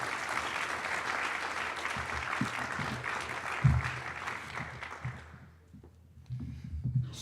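An audience claps to welcome a speaker at a lecture on the 21st-century nuclear resurgence. Dense, steady applause fills the room and then tapers off, leaving a few scattered claps and faint rustling.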